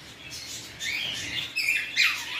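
Many small birds chirping and tweeting together inside a pet shop, fairly faint and steady, with busy overlapping high calls and no voices.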